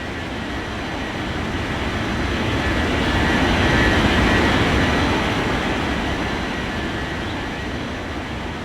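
Jet airliner on a runway during takeoff, a loud, steady broadband roar that swells toward the middle and then holds, heard close with no voices over it.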